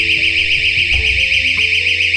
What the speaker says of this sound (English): It stops the door from being pushed open and sounds the alarm.